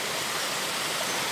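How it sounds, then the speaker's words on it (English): Steady rushing roar of a waterfall on a creek in Central Park, New York City, a constant broadband wash of water with no breaks and no voices. "Because of this waterfall over here."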